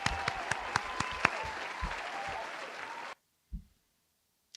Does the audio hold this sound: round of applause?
yes